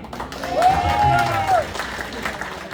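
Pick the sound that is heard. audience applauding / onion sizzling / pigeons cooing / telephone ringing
audience applauding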